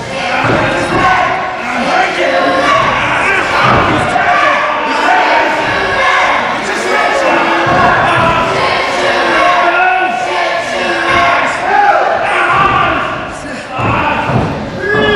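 Wrestling event crowd at an indoor show, a continuous loud roar with shouting and occasional thuds from the ring, while a commentator talks over it throughout.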